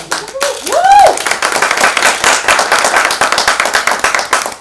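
Live audience at a celebrity fitness chat show launch breaks into steady, dense applause mixed with cheering that runs the whole stretch, loud and close after a brief rising vocal whoop at the start.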